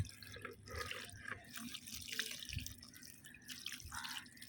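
Diluted coffee-and-jaggery water mixed with plain water is poured onto garden plants, giving a steady splashing, trickling stream with dripping throughout, fairly close and with no voices.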